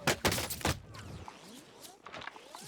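Gunfire in Call of Duty: Warzone, with a few loud, close shots in quick succession at the start, then fainter scattered shots and game clatter.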